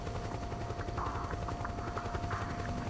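Helicopter hovering in the war-zone video game Metal Gear Solid 4: Guns of the Patriots, a steady rotor drone with a tonal hum, mixed with scattered gunfire bursts in the background.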